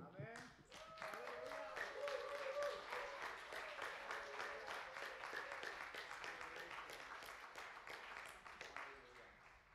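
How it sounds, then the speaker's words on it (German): A church congregation claps at the end of a worship service, a dense, lively burst of hand clapping that carries on for nearly ten seconds and sounds moderately distant. "Lass uns Jesus mal einen ganz großen Applaus."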